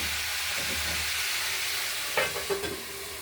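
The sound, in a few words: stirring and frying vegetables in a pan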